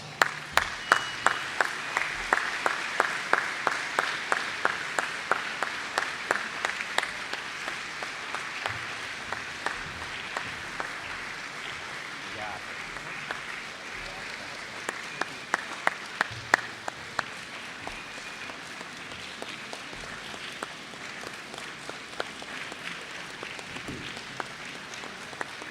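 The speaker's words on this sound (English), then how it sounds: "Now it's a big group, so continue the applause" Dense applause from a graduation ceremony audience at Perry Technical Institute, many hands clapping steadily at first, then thinning and softening toward the end with a brief swell near the middle.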